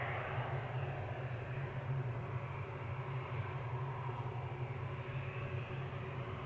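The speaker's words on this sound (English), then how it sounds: "the China 330, which just landed, is also taxiing our way" An Airbus A330 airliner taxis toward the gate at Amsterdam Schiphol, a steady low engine rumble and whine at moderate distance, continuous and without speech.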